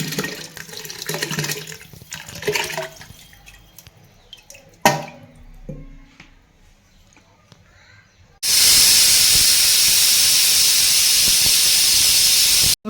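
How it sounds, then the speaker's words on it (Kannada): A pressure cooker of sambar and rice releasing its pressure after three or four whistles, a sudden loud, continuous hiss of steam bursting in after quieter kitchen clatter and lasting several seconds, close to the listener. "ಈಗ ಕುಕ್ಕರ್ ಒಂದು 3-4 ವಿಸಿಲ್ ಹೊಡಿಸಿ ನಾನು ಇಟ್ಟಿದ್ದೀನಿ, ಅದು ಪ್ರೆಷರ್ ಹೋಗಲಿ"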